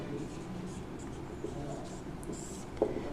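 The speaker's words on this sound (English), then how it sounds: "let's write the given part." Pen or pencil writing out the given values of a Pythagoras theorem triangle problem, steady soft scratching strokes close by, continuous over a quiet room hiss with a faint voice at times.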